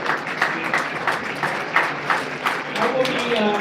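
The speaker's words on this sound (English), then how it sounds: "So a hand of applause for the dream team behind me." An audience at the MARA launch party in Kowloon applauds, a dense, steady wash of many hands clapping close by with a few rising swells.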